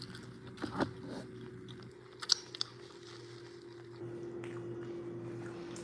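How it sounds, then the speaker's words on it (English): Someone eating Taco Bell food up close, soft wet chewing and a few sharp crunchy bites around a quiet room hum, with no talking. "Are you even tasting it? Slow down and chew."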